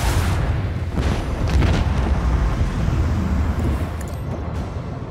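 A deep rumbling boom from an explosion in Warhammer 40K: Rogue Trader, with sustained low roaring and crackling debris that slowly fades.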